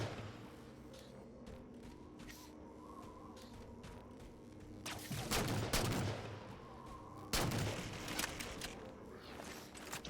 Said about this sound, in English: a Pelican comes down. It's going to shoot it with its magical turret gun, and that's going to magic destroy the shield